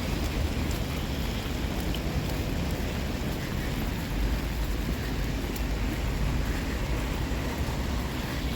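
Steady rain falls along the Halifax waterfront on a late-November night, a constant dense hiss and patter with no breaks, moderately loud and even throughout.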